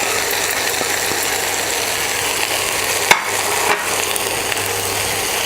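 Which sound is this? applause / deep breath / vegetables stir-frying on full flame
vegetables stir-frying on full flame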